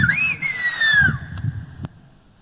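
A young man in Gran Canaria whistles a message in the island's whistled language, a short piercing whistle that rises then glides slowly downward, heard close over faint room noise.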